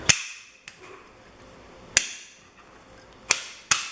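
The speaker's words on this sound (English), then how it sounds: "I'm going to have to thump it with my hand here" Four sharp, percussive thumps of a hand striking a stuck billet coaxial suspension mount, spaced irregularly, each a quick broadband knock with a short decay, heard close up with no talking.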